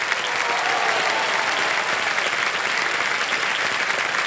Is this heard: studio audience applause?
yes